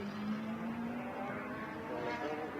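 Race cars in a Formula BOSS race run down the main straight with a continuous, fairly loud engine whine rising gradually in pitch, heard from a moderate distance with no talk.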